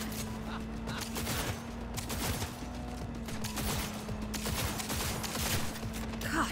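Rapid gunfire from the video game Cyberpunk 2077 crackles in dense, nearly continuous bursts over a steady background hum, with sharp shot transients packed closely together.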